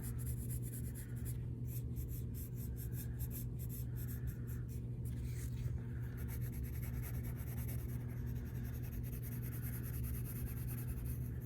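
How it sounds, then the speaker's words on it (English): Pencil shading on paper with a few erasing rubs: soft, steady scratchy strokes in quick repeated bursts over a low constant hum, close and fairly quiet, no talking. "So I'm gonna shade, bring this around, erase this a little bit."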